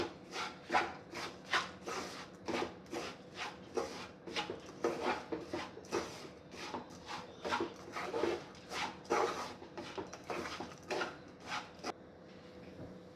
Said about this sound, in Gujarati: તો થોડી મલાઈ નાખીશું આ બધાને મિક્સ કરી લઈશું